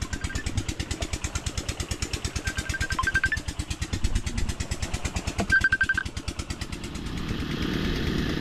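Small engine of a mango orchard sprayer running steadily at a fast, even pulsing idle, close and loud, with brief high whines over it and a faint rumbling tail at the end.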